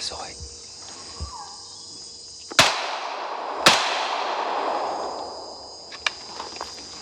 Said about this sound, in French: 2 coups de feu.